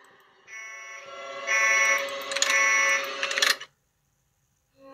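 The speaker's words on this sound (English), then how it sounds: "I just used the alarm and that made it go away." An electronic alarm blares in the horror game Five Nights at Wario's, a loud, steady harmonic buzzing tone that swells louder midway, sputters briefly, then cuts off abruptly, leaving near silence.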